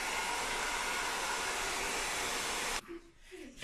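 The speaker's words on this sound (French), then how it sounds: "vous prenez un petit sèche-cheveux pour sécher un petit peu les petits bâtons" A small hair dryer blows a loud, steady whoosh while drying little craft sticks, then cuts off, leaving faint handling sounds and a brief voice at the end.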